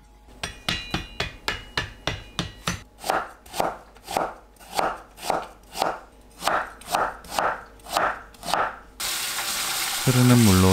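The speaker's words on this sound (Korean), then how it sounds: "고구마를 채 썰어주세요" A knife cuts sweet potato into thin matchsticks on a board in about sixteen crisp, even strokes, quick at first and then slower and heavier, and the sound of running water follows at the end.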